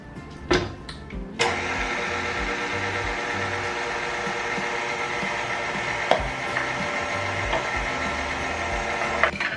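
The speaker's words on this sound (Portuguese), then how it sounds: "A minha batedeira tem essa versão de só misturar, tá?" Electric stand mixer on a low mix-only setting, stirring cake batter with baking powder, heard as a steady, loud motor whir with a continuous hum after a few knocks as it starts.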